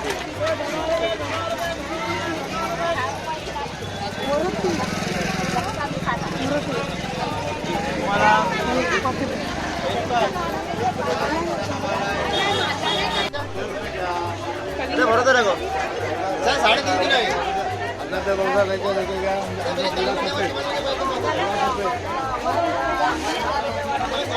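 Steady crowd chatter and hubbub at a busy, hot weekly vegetable market in Rajapur, many voices babbling close and far, with someone talking over it.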